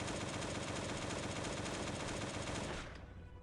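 Sustained automatic fire from an AK rifle in the zombie survival game Last Day on Earth, a dense, unbroken rattle that runs steadily for nearly three seconds before cutting off abruptly into quieter ambience.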